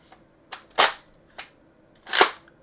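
A Nerf Gelfire Raid blaster is primed by hand, giving a series of sharp, loud plastic clacks and snaps close up, two of them especially strong, with quiet gaps between and no voices.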